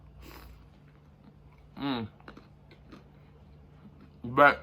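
A crunchy chipotle jerk chicken turnover, calzone-style, is bitten and chewed in two short loud bursts, one near the middle and one at the end, with a faint word spoken between them.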